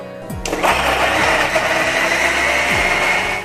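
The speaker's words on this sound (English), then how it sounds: "take a grinder, 1 inch of chopped ginger, add 8 to 10 cloves of garlic, 3 green chilies, add 1 tomato, grind it and make a paste" An electric kitchen grinder blending ginger, garlic, green chilies and tomato into a paste, starting with a few thumps then whirring into a loud, steady high-pitched motor whine with a gritty churning texture, close by.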